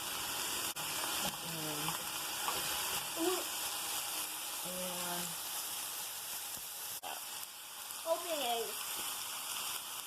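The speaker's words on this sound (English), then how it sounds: "So the mushrooms are getting a good brown on them. I'm going to give them a quick stir about." Mushrooms sizzle in an even layer in a pan, a steady broadband frying hiss running throughout at moderate level, with a few scrapes from a Japanese cooking spatula and brief speech over it.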